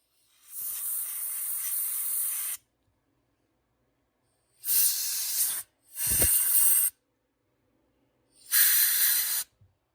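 Four bursts of carburetor cleaner aerosol spray on an ATV carburetor hiss loudly, separated by silence: one long burst, then three shorter ones.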